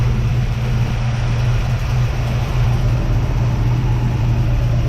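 A 1962 Dodge Dart with a 440 engine and tunnel ram intake idling below 1,000 rpm, a steady, deep rumble with a low pulsing hum, close and continuous.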